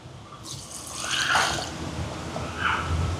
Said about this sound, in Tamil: எங்களுக்கு தேவையான அளவுக்கு தண்ணி சேர்ப்போம்